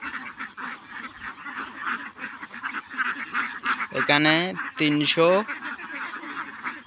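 A flock of about 390 egg-laying farm ducks gives a bout of loud, harsh quacks and honks midway, over a constant background of softer chatter from the birds, while someone speaks briefly nearby.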